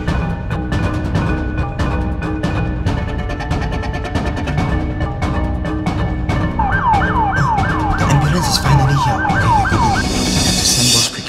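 An ambulance siren wails in a rapid rising-and-falling pattern amid loud traffic and clattering, close and continuous for several seconds.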